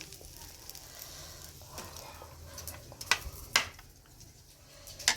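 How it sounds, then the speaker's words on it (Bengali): An egg frying in a pan gives a soft, steady sizzle, broken by a few sharp scraping or stirring clicks near the end. "এখানে ডিমের পোচ করতে গেলাম তো কুসুমটা গলে গেল"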